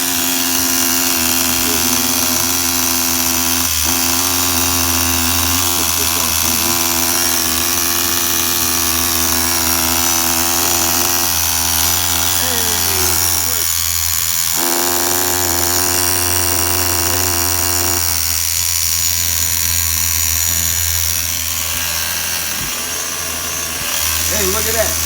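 A Tamiya TGS-R radio-controlled car's small nitro engine runs steadily at a loud, continuous buzzing idle for the whole stretch, with brief dips and a mechanical hum underneath.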